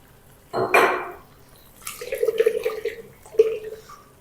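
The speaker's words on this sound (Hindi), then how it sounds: "अब हम ना इसके अंदर थोड़ा सा पानी शामिल करेंगे" Water poured from a vessel into a sizzling garlic-ginger paste for an Afghani egg tikka masala, a brief splash followed by a bubbling, gurgling pour with a second short burst, close and moderately loud.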